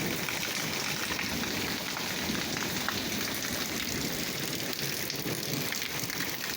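Walnut-sized hailstones hammer down over apricot orchards in Malatya, a dense, loud, unbroken roar of impacts with no pauses and no voices.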